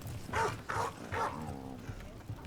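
Three soft, close dog vocalizations, short whining barks, from a dog being petted in the video game Dragon Age: The Veilguard, followed by a fading low whimper over quiet game ambience.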